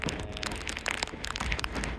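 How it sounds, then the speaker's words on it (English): Wind-driven sideways rain in the Alps beating hard on nearby surfaces, a dense, continuous patter of drops close to the microphone with no speech. "sideways rain"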